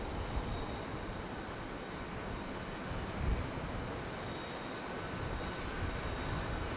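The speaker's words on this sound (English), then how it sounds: "Finally making touchdown" An Airbus A321 airliner touching down at Charlotte Douglas airport, heard as a steady, distant broadband engine and airflow roar that holds level throughout, with a slight swell midway and no talking.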